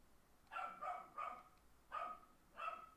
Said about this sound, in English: the dog will not stop fucking barking at the cat